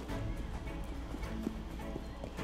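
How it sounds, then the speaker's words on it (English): Hooves of a carriage horse clip-clop steadily in Assassin's Creed Unity, a continuous fairly loud trot with a faint whinny-like tone, no talk over it. "It's a horse-drawn carriage."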